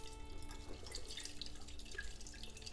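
Water drips and trickles steadily from a fish tank down onto a pinwheel, a faint, continuous splashing with small bright droplet plinks, no voices.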